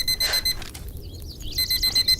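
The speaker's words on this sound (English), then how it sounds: "I don't know why we have an alarm clock to tell us it's time to go to bed" An alarm clock rings at bedtime in a pirate-themed video game, giving short bursts of bright, warbling electronic beeps that come and go over a low background hum.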